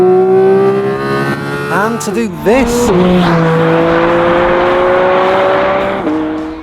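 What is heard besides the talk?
Porsche GT engine revving and passing by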